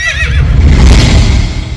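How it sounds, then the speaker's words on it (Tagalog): A horse neighs loudly in an audio horror story set among sugarcane fields, a shrill whinny at the start over a dense, rumbling effects bed that stays loud throughout. "pag-apak ng kabayong yun sa mga dahon ng tubo at tuluyan ng tumakbo"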